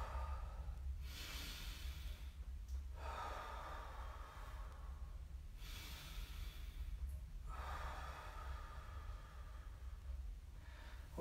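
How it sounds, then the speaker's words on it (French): Deep, forceful breaths drawn in during a home stretching exercise for the pelvis, heard as three long, loud inhale-exhale surges spaced a few seconds apart, up close with no talking. "Et dans la position, on inspire fort."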